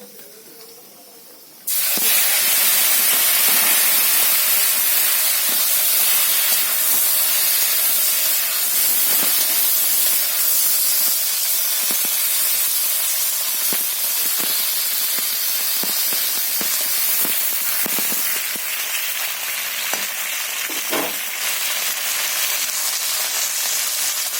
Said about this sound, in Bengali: তো বন্ধুরা, আমি এখন ক্যাপসিকামটা ভেজে নেব।